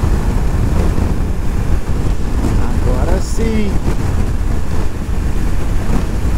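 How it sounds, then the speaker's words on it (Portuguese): Strong wind roars loudly and steadily across the microphone on a road trip through Argentina near the Paraná Guazú river. A person speaks briefly over the constant gusty rush. "Tá ventando bastante"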